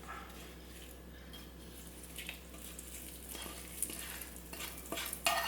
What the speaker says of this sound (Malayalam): ഈ വറുത്തെടുത്തതെല്ലാം കൂടെ ഈ ഒരു ചട്നിയുടെ മുകളിലേക്ക് ഒഴിച്ചു കൊടുക്കാം